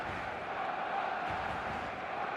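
A stadium crowd in the eFootball video game roars steadily before kickoff, a dense, continuous wall of cheering and chanting that holds the same level for the whole stretch, with no talk over it.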